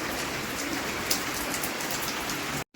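Heavy rain beats down on surfaces nearby in a constant, full hiss with scattered drop impacts, no one speaking, and it ends in a sudden cut at the close.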